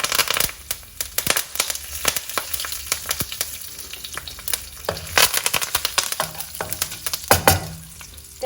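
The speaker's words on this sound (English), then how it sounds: "Let it sizzle." Mustard seeds, cumin seeds and curry leaves sizzle and pop in hot oil, with dense crackling and sharp spitting bursts that carry on steadily up close.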